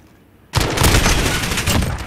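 Video game gun firing in a competitive match, a sudden loud burst that starts abruptly and holds as a dense rapid stream of shots until the end.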